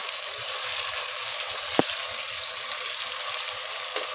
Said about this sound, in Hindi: अब इसमें डालेंगे टमाटर और हरी मिर्च।